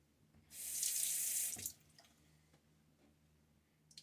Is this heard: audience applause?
no